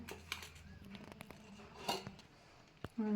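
Chopped onion, tomato and green chili tipped into a cooking pot, with scattered clinks and scrapes of a utensil against metal, faint and intermittent, then a louder sizzle at the end.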